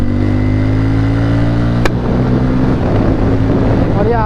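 A Yamaha R15 motorcycle rides past in city traffic, its steady engine drone loud and close beneath a brief sharp knock, with other vehicles and wind noise around.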